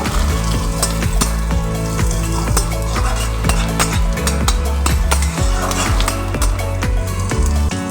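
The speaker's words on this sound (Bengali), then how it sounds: "খুব বেশি ভাজবো না, তাহলে পেঁয়াজের ক্রাঞ্চি ভাবটা চলে যাবে।" Chopped onions fry in a pan with a loud, continuous sizzle, while a utensil stirs and scrapes against the metal in repeated, clattering strokes close by.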